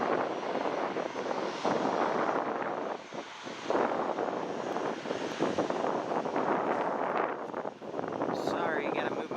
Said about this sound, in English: that is an Italian Air Force G550. So it's supposedly taking off tonight.